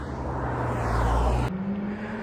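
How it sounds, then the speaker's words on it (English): Carbureted Subaru Sambar van with a custom Japanese exhaust drives by outside, its engine hum rising to a steady drone, then the pitch drops sharply as it passes. "He's gonna do a drive-by so we can see what it sounds like from the outside of the car."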